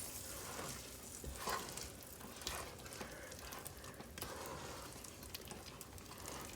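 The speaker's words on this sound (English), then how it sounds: "Baking soda in. Stir that up." Peanut brittle candy is stirred after baking soda goes in, a faint crackling, sizzling texture with soft repeated scraping strokes of the spoon through the thick mixture.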